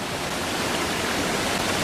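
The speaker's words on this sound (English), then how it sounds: "There's water running." A steady rush of running water in the video game Exit 8, even and unbroken, like a constant stream pouring nearby.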